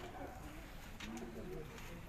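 A pigeon hen kept in a high-flyer breeding setup gives soft, low cooing phrases, faint under a steady hum of background noise.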